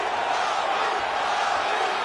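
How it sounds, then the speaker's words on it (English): A UFC arena crowd roars in approval of high-level grappling during a Nurmagomedov fight, a dense, steady wall of cheering that fills the space from start to finish. "the crowd pops in appreciation as the fighters work their way back to the field"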